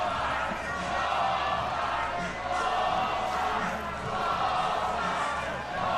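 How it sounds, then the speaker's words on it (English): A softball championship crowd chants in unison at Texas A&M versus Liberty, a loud, steady rhythmic roar from the stands that swells in waves across the moment. "You can hear them chanting ball 5."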